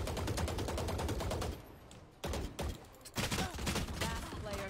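Rapid bursts of gunfire in the tactical shooter game Valorant, loud and close, with quick repeated shots broken by short pauses and a faint voice in the background.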